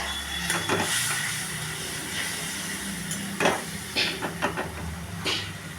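Hot water hits frying spice paste in a pan for a pabda fish curry, setting off a steady sizzle and steamy hiss with several sharper spitting bursts, close and fairly quiet.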